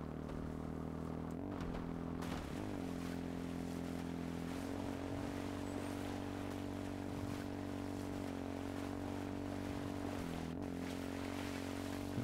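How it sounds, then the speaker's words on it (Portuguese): A steady droning motor hums throughout, with a low engine tone that shifts pitch slightly every few seconds, like a motorcycle cruising nearby. "Estou a ouvir moto, és tu?"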